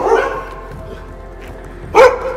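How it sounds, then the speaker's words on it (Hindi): A dog barks loudly and close at night, one sharp bark at the start, a fainter yip midway and another loud bark near the end, with quiet ambience between. "कुत्ता भौंक रहा है"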